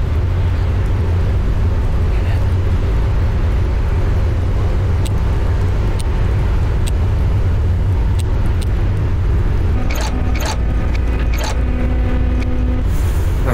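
Engines run steadily after ignition in the video game A Rogue Escape, a constant low mechanical rumble with faint clicks and short tonal beeps near the end, no voices.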